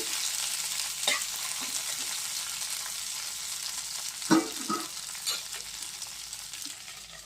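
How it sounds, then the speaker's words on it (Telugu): Cluster beans fry in hot oil with a steady, close sizzle and hiss, broken by a few soft spatula clinks and stirring scrapes; no one speaks. "గోరు చిక్కుల్ని ఇలా వేసేసుకుంటాం ఒకసారి నూనె అంతా కలిసి వేస్తుంది బాగా వేయించేసుకొని"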